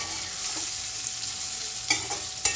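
Spices crackle in hot oil in a pan for tempering, a soft, continuous sizzle with a few sharper pops and stirring clinks near the end.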